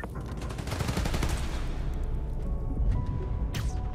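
Sustained automatic gunfire in Spider-Man: Miles Morales on PS5, a loud steady rattle of shots that continues throughout, thinning slightly toward the end with a sharp swish near the finish.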